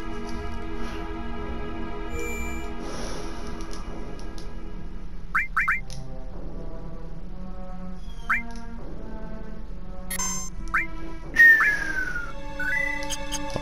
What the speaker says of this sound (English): A bird just whistled outside my window. I was just whistling back at it.